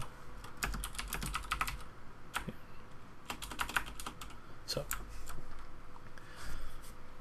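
Bursts of rapid typing on a computer keyboard while writing a script, clicking keys coming in quick clusters separated by short pauses, close and fairly quiet, with no talking over it.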